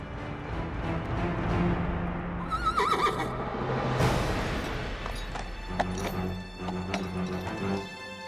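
A horse neighs and whinnies amid clattering hooves and a crash as a princess falls from it, in a dramatic palace-era scene, with loud layered noise and no talk.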